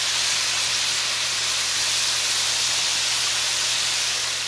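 Beef searing in a hot pan for a Mexican carne en su jugo stew, giving off a steady, unbroken hiss of sizzling at close range with no talking.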